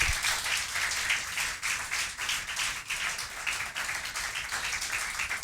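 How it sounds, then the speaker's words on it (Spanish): Church congregation applauding during a Spanish-language sermon, steady dense clapping that fills the whole stretch at moderate level, with no voices over it. "Dele un aplauso al Señor."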